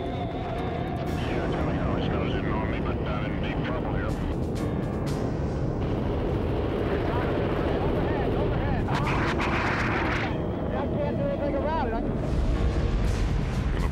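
Cannon fire from a pursuing Phantom fighter jet during a dogfight, loud sustained roar and rumble of jet engines with gunfire bursts throughout, no talking.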